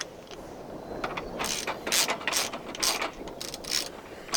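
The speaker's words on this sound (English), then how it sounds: "Now I can just go ahead and stick the nut back on it" A socket ratchet clicks in quick bursts, tightening the steering wheel nut on a Mazda B2200 pickup fitted with an OMP quick-release wheel. The pawl rattles loudly and close, in several short runs with brief pauses, and nobody talks.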